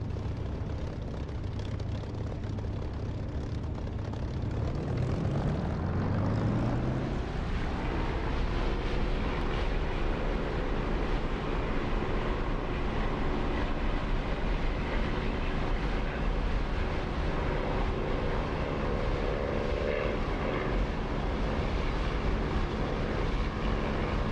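A DCS flight simulator aircraft engine spools up during a rough takeoff, a loud continuous roar that rises in pitch over the first seconds and then holds steady and dense throughout.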